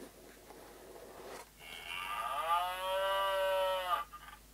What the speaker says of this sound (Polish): Po otworzeniu pudełka gra muczy.